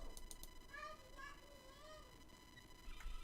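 A girl imitates a cat, giving a few faint meows with rising and falling pitch over low background noise.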